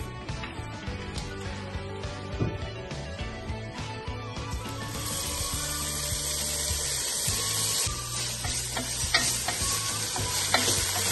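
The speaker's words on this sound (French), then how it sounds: "nous allons faire revenir nos lardons avec juste un peu d'huile d'olive" Bacon lardons frying in a little olive oil, a steady close sizzle with clinks and stirring scrapes through the first few seconds, then an even louder, continuous hiss that carries on to the end with no one talking.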